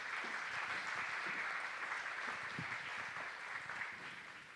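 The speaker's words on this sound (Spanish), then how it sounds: "Un aplauso." Sustained applause from an audience at the opening of a Central American human rights forum, a dense, steady wash of clapping that fills the whole stretch with no voices over it.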